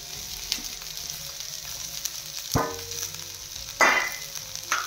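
Soaked lentils and chighal greens hit a hot pan, setting off a steady sizzle with sharp bursts of frying each time more goes in, up close and clear.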